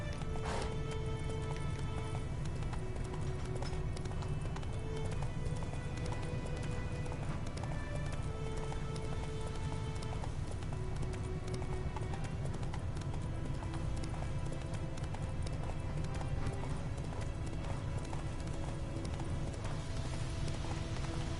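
Roach, Geralt's horse in The Witcher 3 on PS4 Pro, gallops steadily throughout with continuous hoof clip-clops over a bed of game music and ambience, close and even in loudness, with no talk.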